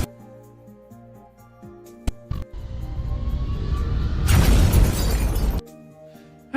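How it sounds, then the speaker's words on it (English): A loud, dense burst of crashing noise lasting about a second, preceded by a low rumbling drone and a few sharp knocks. "That sounds like a car crash."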